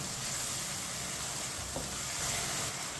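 Ginger and garlic frying in a pan while stirred with a spoon, a dense continuous sizzle with soft scraping of the spoon, close and steady for the whole stretch.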